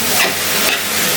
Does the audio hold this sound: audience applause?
no